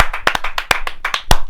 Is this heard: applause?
yes